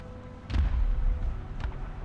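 An artillery shell explosion in the War Thunder video game booms as a muffled low thump, followed by a fainter second blast, over steady game rumble.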